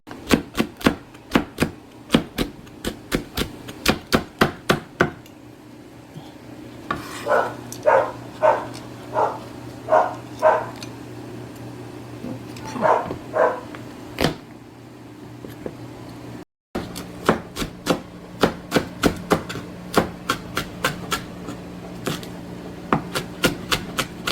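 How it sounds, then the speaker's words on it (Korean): Green onions are minced with a knife on a cutting board in rapid, steady chops, close and crisp. A denser stretch of mixed kitchen noise sits in the middle, then the even chopping resumes. No one speaks. "그냥 이제 파 다져 놓고"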